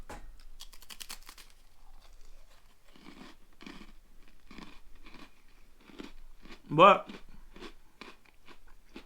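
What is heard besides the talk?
chewing crunchy food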